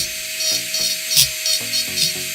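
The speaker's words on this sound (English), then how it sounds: "I'm specifically using dental drills because" A dental drill carves wood, giving a thin steady whine over rhythmic scraping and rubbing strokes, close and fairly loud, with no talk.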